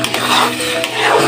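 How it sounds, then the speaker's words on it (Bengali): A spatula stirring a thick raw mango aamsotto mixture in a pan, a short close burst of scraping and soft sizzle. "তারপর আবার ভালো করে নেড়ে চেড়ে নেব।"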